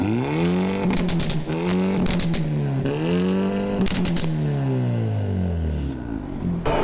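Hyundai Avante N (Elantra N) engine revving at an auto show, with loud rising and falling rev sweeps and sharp bursts of exhaust popcorn crackle between them, close and continuous.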